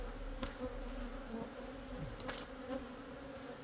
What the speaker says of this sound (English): Still a lot of bees.